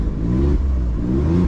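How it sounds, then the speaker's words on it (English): An Alfa Romeo Stelvio Quadrifoglio SUV engine revs in dynamic mode up close and loud, rising and falling twice in quick succession with a deep, throaty exhaust note. "let's give it a little rev"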